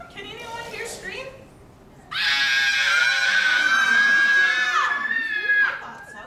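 A group of children scream loudly together in a sustained burst lasting several seconds during a Row, Row, Row Your Boat sing-along, with quieter talk before and after.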